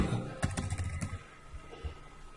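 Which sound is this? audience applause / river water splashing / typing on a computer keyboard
typing on a computer keyboard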